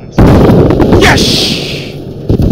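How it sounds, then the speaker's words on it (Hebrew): Video game IED blast destroying an enemy IFV with a full squad aboard: a sudden loud, deep explosion with a sharp onset and a long rumbling tail, close by, followed by smaller debris bursts and a voice. "פיצצתי את כל ה-IPC שלהם עם סקוואט שלם."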